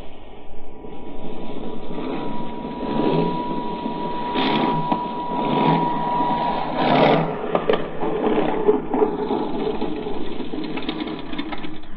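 An airplane engine drones steadily through a landing in an old radio drama, a mid-level mechanical hum with a few swells, heard alone without voices.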